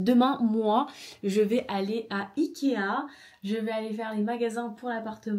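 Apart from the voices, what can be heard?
No everyday noise stands out behind the speech.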